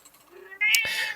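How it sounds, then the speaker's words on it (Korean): A cat gives a single drawn-out meow close to the microphone, rising and bright, after a quieter stretch of soft room sound. "고양이가 빨리 끝내라고."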